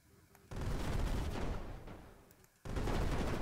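Space shuttle rockets firing in the Brick Rigs video game, a Top Gear-style shuttle build, with a loud sustained broadband roar that drops briefly, then two abrupt bursts of thrust cutting in, no talking.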